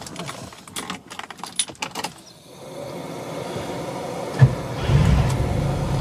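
An old classic car with a 6.3 engine, offered by a Marrickville dealer, cranks and fires at about four and a half seconds, then settles into a steady, fairly loud idle after some earlier light clinking and handling noise.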